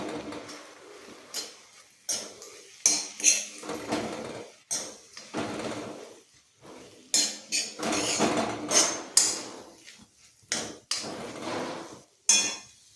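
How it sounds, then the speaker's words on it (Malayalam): A spatula tossing and scraping kovakka thoran around a pan in irregular bursts of clattering strokes separated by short pauses, fairly close and clear. "നമുക്കൊന്ന് ഇളക്കി നോക്കാം."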